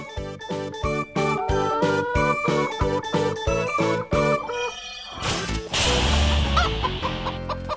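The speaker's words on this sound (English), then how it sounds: "chicken" A run of rapid, rhythmic chicken clucks from a farm-animal toy, close and loud, ending in a burst of noisier squawking with a light jingling underneath.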